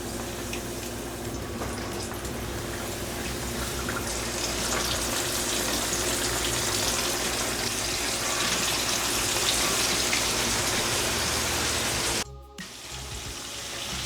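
Pork chops sizzle and crackle in hot oil in a pan, a steady, loud, broadband hiss that holds for about twelve seconds before a brief dip, with no talking.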